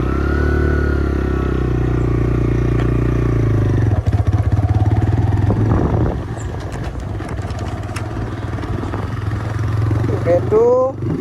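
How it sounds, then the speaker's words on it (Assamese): A motorcycle engine runs close by, steady at first, then clattering and rumbling as it pulls away, with a voice talking over it partway through. "দেখাই আছোঁ মানুহজনীয়ে কেনেকৈ বাইক চলায় তোমালোকক।"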